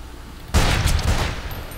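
A single loud Volcanic pistol shot in the video game Fistful of Frags, a sharp close blast with a brief rolling tail.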